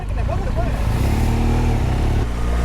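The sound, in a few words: BMW R1200GS motorcycle engine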